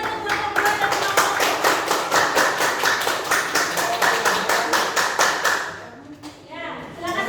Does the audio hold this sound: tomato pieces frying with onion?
no